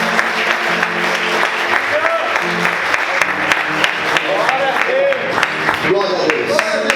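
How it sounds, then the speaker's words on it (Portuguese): A church congregation claps continuously in a large room during a service, a steady wash of applause while voices call out and murmur over it. "Vamos aplaudir Jesus."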